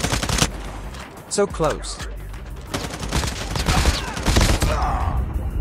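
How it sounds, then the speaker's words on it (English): Rapid gunfire from Call of Duty Mobile, dense overlapping bursts and single shots crackling loudly throughout, with a player's voice talking briefly over the shooting. "I literally shot him into his head like 10 times, but he still survived."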